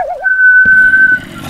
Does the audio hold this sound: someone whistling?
yes